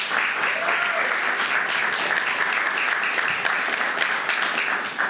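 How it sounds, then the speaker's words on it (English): Audience applause at the Dogs for Better Lives Bone AppeTREAT 2023 gala, a steady dense wash of many hands clapping throughout, sustained and even, with no break. "Yeah, applause is welcome."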